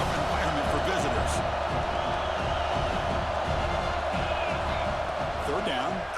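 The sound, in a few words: stadium crowd at a football game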